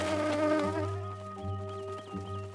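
Cartoon wasps from Maya the Bee buzz with a steady, droning hum that sits under layered music with sustained tones, the buzz holding fairly loud throughout.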